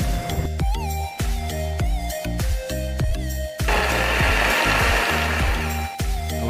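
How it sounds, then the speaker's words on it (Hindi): A kitchen blender whirs through mango, yogurt and ice cubes for lassi, a loud close grinding whine that cuts out and restarts in short pulses, with rattling chunks, then a longer continuous run. "अब ब्लेंडर में 100 ग्राम आम, 1 कप योगर्ट, आइस क्यूब और हसबे जैका चीनी डालें और उसको ब्लेंड कर लें."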